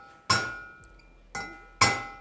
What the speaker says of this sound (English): We're just tapping on the top of the valve, and that's gonna make sure these are seated all the way.